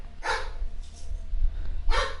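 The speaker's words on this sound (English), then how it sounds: "I need that dog to be quiet." Sharp barks from a dog, one near the start and another near the end, set over a low rumbling hum of background noise with no speech.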